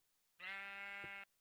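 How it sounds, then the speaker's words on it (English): A sheep bleats once in the Minecraft video game, a single sustained buzzy tone of under a second against a near-silent background. "Hey, sheep."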